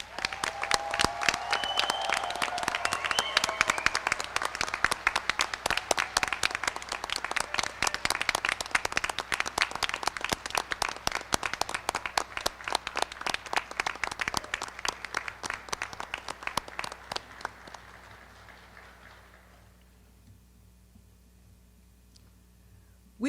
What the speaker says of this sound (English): Will the members of the audience please join me in one more round of applause for